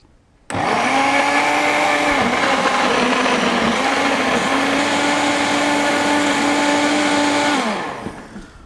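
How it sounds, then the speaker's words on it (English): A blender blending cooked vegetables whirs loudly for several seconds at a steady pitch with slight dips as the load shifts, then spins down and stops. "just pour the mixture into your blender"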